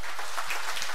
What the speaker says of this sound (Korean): 또 찬양으로 우리에게 은혜 끼친 우리 찬양대울에서도 격려의 박수